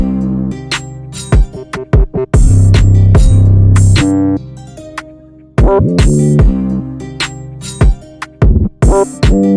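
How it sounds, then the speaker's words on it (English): Deep drill-beat 808 bass pattern with pitch slides, booming sustained notes alternating with short punchy hits and gaps, loud and up front without any voice. "So this is the 808 pattern in its entirety playing for the hook."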